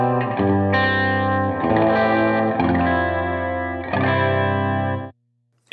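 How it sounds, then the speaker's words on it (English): Guitar chords played through a Line 6 Helix HX Stomp with modulated delay, giving a swirling flanger-like chorus; several sustained strummed chords in sequence, loud and close, then the sound cuts off abruptly. "So when you play them together and they're slightly out of phase and you add a little bit of movement and mod, it sounds kind of like flangery."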